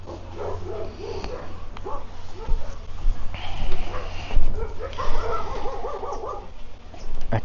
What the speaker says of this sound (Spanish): Aquí donde estoy hay bastantes perros, aparte de los míos, así que probablemente escuchen mucho de eso en el video.